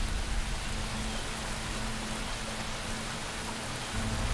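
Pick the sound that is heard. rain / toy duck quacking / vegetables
rain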